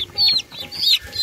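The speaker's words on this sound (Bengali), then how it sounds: "এই যে মুরগিগুলোকে ছাড়বো এখন" Chickens being released cluck in a rapid rhythmic series of close, clear calls over about a second.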